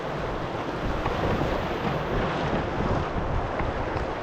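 A steady roar of high, fast water from the River Usk in November as it rushes past a canoe, with constant broadband rushing and wind buffeting the microphone.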